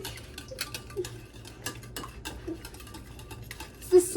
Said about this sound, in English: Go ahead and whisk that up.